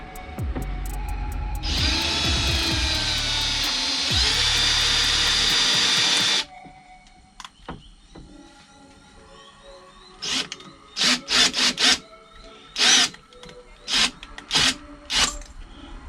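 A loud power drill whirs steadily for several seconds, spinning a nail chucked in it to make a homemade fishing lure, then stops, followed by a series of short, sharp scraping or tapping bursts.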